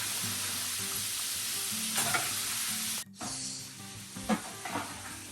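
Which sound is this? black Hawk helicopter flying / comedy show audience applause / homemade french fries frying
homemade french fries frying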